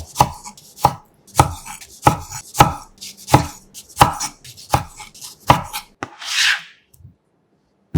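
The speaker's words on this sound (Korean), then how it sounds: "토마토 2개는 큼직하게 깍둑 썰고" Two tomatoes are diced into large cubes with a knife on a cutting board: about ten crisp, evenly spaced chops thud against the board, followed by a brief scraping swipe and then quiet.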